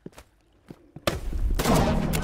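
Gunfire from a shooter video game breaks out after a second of quiet footsteps and light thumps, a loud, dense burst of shots that continues to the end.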